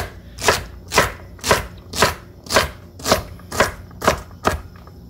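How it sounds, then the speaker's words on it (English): A knife dices mirepoix vegetables on a cutting board in about nine evenly spaced, crisp chops, close and steady, with no voices. "And just quickly cut it into dice."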